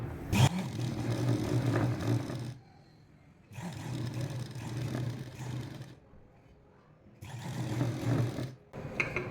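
A sewing machine stitches along a quarter-inch folded fabric edge while making piping, running in three steady bursts of close whirring separated by brief pauses.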